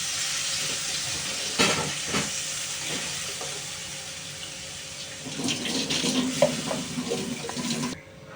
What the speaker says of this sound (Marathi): आपण हे जे घोटून ठेवलेले ताक ते टाकूया